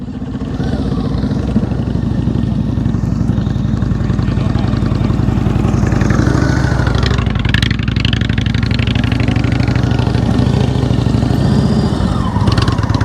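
A motorcycle engine runs loud and close during slow-speed riding practice, a steady low rumble with slight throttle changes throughout, under occasional talk.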